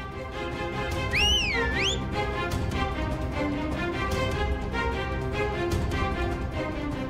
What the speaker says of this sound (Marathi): ही मावशी जेव्हा जेव्हा शिट्टी वाजवते तेव्हा तेव्हा काहीतरी धमाका होतो